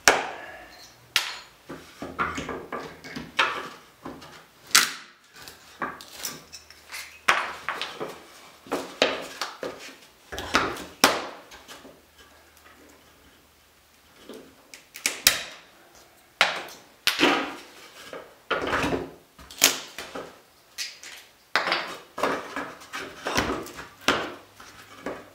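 Glued parts of a PT11 model boat kit are broken apart by hand, giving close, irregular sharp cracks and snaps in bursts of varying loudness, with brief pauses and no talking.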